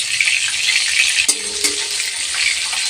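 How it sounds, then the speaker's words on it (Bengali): Hilsa fish frying in plenty of oil in a wok in a village kitchen makes a loud, dense, continuous sizzle with a couple of sharp crackles. "এই যে ইলিশ মাছ ভাজা হচ্ছে"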